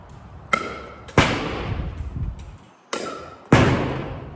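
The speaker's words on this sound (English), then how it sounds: "a nice level swing with a nice perpendicular paddle will have a nice low volley." A pickleball paddle strikes the ball in a series of volleys, giving four sharp, hollow pops in an uneven rhythm. Each hit rings out clearly with a short reverberant tail, and no one speaks.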